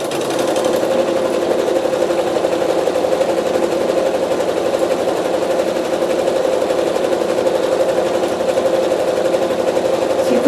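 A sewing machine stitches quilt sashing in one steady, loud, unbroken run with a constant whir from start to finish.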